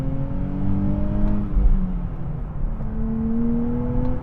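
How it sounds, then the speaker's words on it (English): A 2025 Nissan Z engine revs with auto rev matching, a smooth rising and falling drone heard from inside the cabin, with a couple of quick blips over a steady, loud hum. "Auto rev matches are fantastic."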